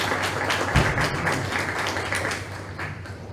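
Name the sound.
audience applause at induction ceremony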